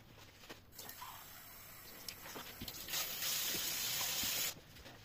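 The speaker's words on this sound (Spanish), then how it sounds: "Voy a llenar de agua el depósito, a ver qué tal." Water running into the tank of a disassembled clothes dryer under repair, a hissing gush that builds and holds loudly before cutting off, with small clicks and knocks before it.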